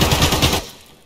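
A short, close burst of rapid automatic gunfire in Escape From Tarkov, the shots loud and rhythmic before cutting off into quiet.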